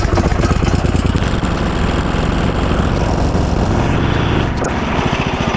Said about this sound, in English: Let's fire this bad boy up and see how she runs.